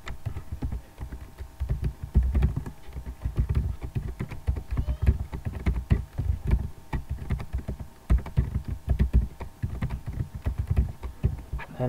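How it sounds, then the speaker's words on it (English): HTML code being typed on a computer keyboard, a steady run of close, quick key clicks and taps with irregular rhythm and brief pauses, continuing throughout with no talking. "First open your text editor and type basic or default HTML structure code."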